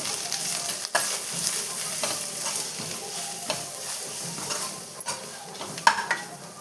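Kollu rasam (horse gram soup) with pepper powder being stirred in a pot, with soft scraping and sizzling strokes repeating unevenly and a few sharper clinks of a utensil against the side.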